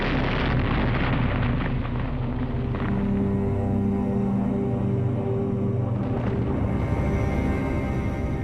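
Bombs exploding during a wartime Blitz air raid on Cardiff and Swansea, a loud, continuous rumbling roar of blasts and booms filling the whole stretch with no letup.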